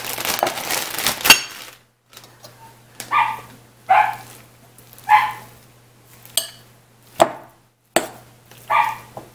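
Dogs barking outdoors at a steady pace, roughly seven separate barks spaced about a second apart, moderately loud, with a burst of crinkling noise before them.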